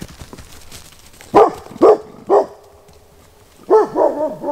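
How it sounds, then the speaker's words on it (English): Dog barking outdoors at a winter camp in a rainstorm, a loud, close bout of three sharp barks followed after a pause by a quicker cluster of several more. "The dog was going crazy about something."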